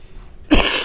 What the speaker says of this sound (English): Slight cough